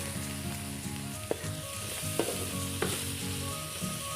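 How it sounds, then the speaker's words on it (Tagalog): Onion and ginger sizzle as they are sautéed in a hot pan. The frying is steady and soft, broken by a few sharp spatula clacks as the mix is stirred. "Gisa lang natin to. Yung sibuyas tsaka luya natin."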